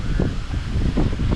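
Gusty wind buffeting a microphone outdoors on a windy day in Aruba, low rumbling bursts that swell and fade with no voices.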